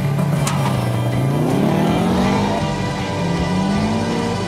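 A car with a manual clutch launching and accelerating hard, its engine roaring loud and close in one sustained rising pull with a steady, heavy drone throughout.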